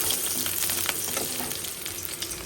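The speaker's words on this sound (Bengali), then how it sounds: "এখন দিয়ে দিচ্ছি তেলে, রসুন আর পেঁয়াজ দিয়ে দিচ্ছি" Garlic and onion fry in hot oil with a dense, steady sizzle and crackle, stirred now and then, close and moderately loud, with no talking.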